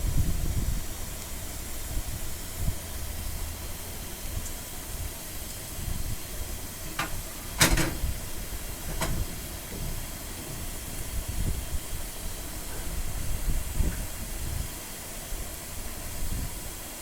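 Chopped onions with whole cumin seeds fry in hot oil for a fish-head dal, a continuous moderate sizzle with a couple of sharp clinks from stirring.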